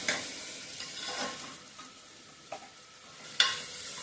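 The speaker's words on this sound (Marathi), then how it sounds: "हे छान परतून घ्यायचंय" Vegetables being sautéed in a pan for Maharashtrian masale bhat, a soft sizzle under a few scraping stirs of a spoon and a sharper knock near the end.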